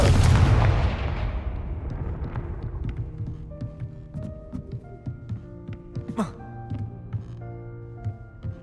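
Confringo fire-blast spell from Hogwarts Legacy, a dense burst of booming, crackling blast noise at the start that fades into a scattered series of lighter pops, thuds and ringing tones, with no voice heard.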